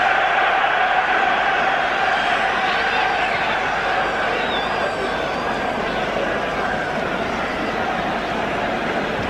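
Steady roar of a packed stadium crowd, German supporters stirring at the 1977 European Cup Final between Borussia Mönchengladbach and Liverpool, a dense continuous wash of voices with commentary running over it.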